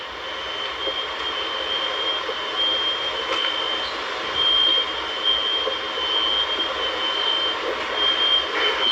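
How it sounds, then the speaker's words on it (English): Smoke alarms left beeping in hurricane-wrecked homes in Florida, a steady series of high electronic tones repeating across the clip over a loud, constant background roar. "The sound of smoke alarms disconnected."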